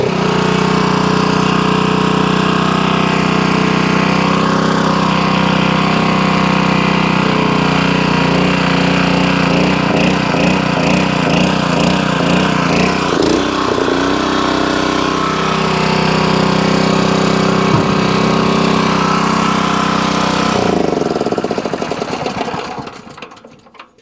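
A small Honda engine on concrete-breaking equipment starts and runs steadily at low throttle, a loud, close, continuous mechanical drone that holds for around twenty seconds before being shut off and winding down.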